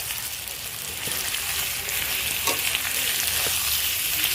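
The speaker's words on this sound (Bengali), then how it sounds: "যতক্ষণ না পেঁয়াজটা লাল লাল ভাব আসে ততক্ষণ নাড়তে নাড়তে এটা ভেজে নেব" Onions frying in white oil in a wok, a steady sizzle with occasional scraping and clinking as they are stirred, close and moderately loud.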